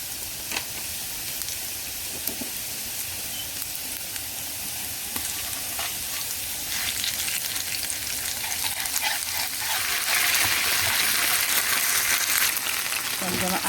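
A spice paste sizzles and hisses steadily in a hot pan as chicken wing sauce is cooked, with occasional stirring scrapes; the frying grows louder and brighter toward the end.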